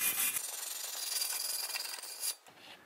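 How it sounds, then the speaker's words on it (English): A wire brush scrubbed across a metal surface to clean it ahead of TIG welding: a brief, close, harsh rasping burst of back-and-forth strokes lasting about two seconds. "I also want to wire brush this surface to make sure it's perfectly clean"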